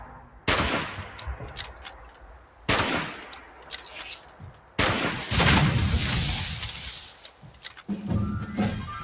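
Rifle gunfire in a video game aimed at a diseased ant: three loud bursts of rapid shots, each followed by a fading rattle, with a final quieter burst near the end and no talking.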